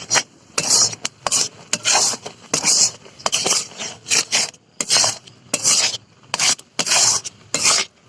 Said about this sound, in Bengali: চিনি দিয়ে আবারও নেড়ে ছেড়ে আমি এটাকে চিনিটা গলিয়ে নিব